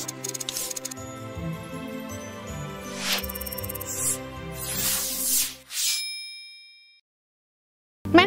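Bright synthetic notification-bell dings and clangs form a short subscribe-reminder sound effect. They ring out clearly over layered electronic tones, then fade to silence, and a short burst returns at the end.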